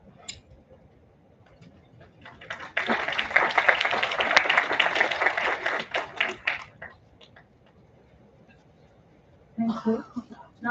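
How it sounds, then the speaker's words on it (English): An audience at a B.Tech orientation ceremony bursts into a loud round of applause that swells, holds steady for several seconds, then thins to scattered claps before a brief second burst. "Let's have a huge round of applause for sir."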